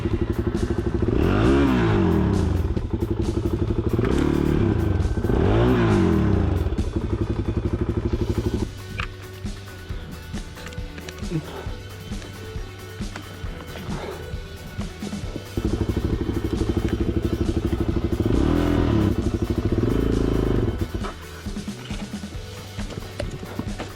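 A Suzuki DR-Z 400 S motorcycle works along a green lane, its single-cylinder engine chugging and surging through several throttle blips, then settling to a lower idle before revving again, close by and loud throughout.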